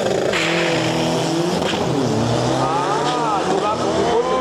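Isuzu turbo diesel drag trucks race at Bangkok Drag Avenue. Loud, continuous engine roar rises and falls in pitch as the trucks rev and accelerate past, with crowd noise and some talk underneath.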